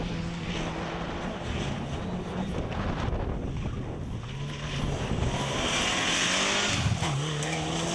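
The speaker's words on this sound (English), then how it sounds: "That's the Group N Lancer there of Gabriel Martin." A Mitsubishi Lancer Group N rally car at the 2004 West Cork Rally roars past in a steady, loud broadband rush that swells toward the end, with wind buffeting the microphone and no talk.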